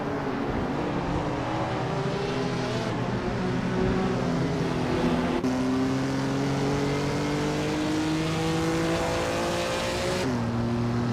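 Race car engines in a racing video game, several motors droning steadily together at high pitch, shifting up through gears with sudden jumps in tone, loud and continuous with no talking.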